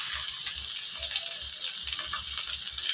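Onions sautéing in a pan as the base for a fish and sweet potato leaf soup, a steady bright sizzle with soft low knocks of stirring, close and continuous.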